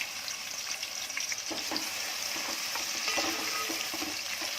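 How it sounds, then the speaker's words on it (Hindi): Two medium chopped onions fry in about two big spoons of hot oil, giving a steady, fairly faint sizzle with a few light stirring clicks and no voices. "अब इसको सुनहरी कलर होने तक भूनेंगे"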